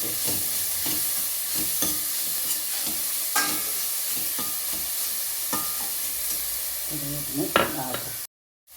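Ginger and garlic frying in oil for kappa biryani, a continuous sizzle broken by repeated spatula stirs and scrapes, with a few clinks near the end before a sudden cut to silence.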